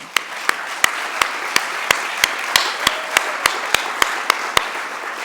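Audience applause at a SUNY FACT2 gathering: a steady bed of crowd clapping with sharp, evenly spaced claps standing out at a brisk regular beat, loud and close, with no talking.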